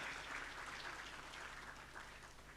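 An audience at the inaugural ceremony of a management conference claps in a steady, even stretch of applause, heard faintly and from a distance.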